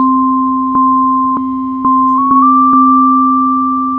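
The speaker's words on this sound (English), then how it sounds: "add in a second sine wave" Steady pure synthesizer sine tones hum together, a low one and a higher one, with a few faint clicks as the upper tone shifts slightly.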